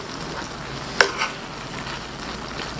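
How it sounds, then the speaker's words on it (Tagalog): Shrimp masala, a Sarsi Cola version, simmers in a pot with a soft, steady bubbling sizzle and a single brief clink near the start, heard alone without talk. "So yan, kumukulo na siya."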